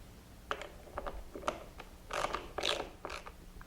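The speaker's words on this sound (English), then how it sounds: "And then you tighten the next screw." Screws being tightened into a board on a wooden planer sled, a series of short ratcheting clicks and creaks in uneven bursts, close up and fairly quiet, with no voices.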